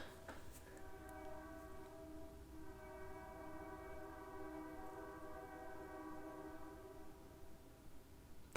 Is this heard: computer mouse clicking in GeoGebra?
no